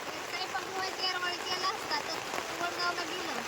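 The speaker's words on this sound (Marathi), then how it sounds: "बारीक बारीक रिमझिम रिमझिम पाऊस येतो" Light drizzling rain patters steadily and softly in an outdoor village setting, a continuous fine hiss of drops without any talk over it.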